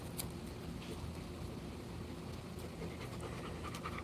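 A dog pants rapidly and steadily at close range, quick breathy puffs repeating in an even rhythm over faint background noise, with no talk.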